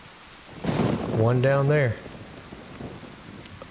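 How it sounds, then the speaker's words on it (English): Rain hisses steadily with a low thunder rumble in the survival game DayZ, set in the North Livonia region. A short spoken line rises over the storm noise partway through. "The rain's bringing out the zombies."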